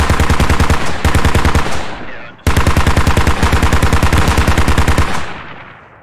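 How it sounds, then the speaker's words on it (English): A BTR armored vehicle's mounted machine gun in Squad fires two long, loud, rapid bursts, the second trailing off into a fading echo. "BTR puts some fire on Polo"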